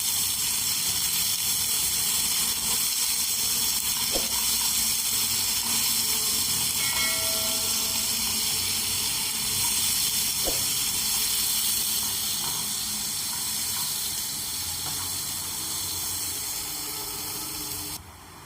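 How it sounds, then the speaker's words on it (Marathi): Tomatoes sautéing in a pan for a dhaba-style dum aloo, with a handful of cashews added, give a steady, fairly loud hiss that runs evenly throughout without any talking. "आता टॅमॅटो छान शिजेपर्यंत परतायचे आपल्याला"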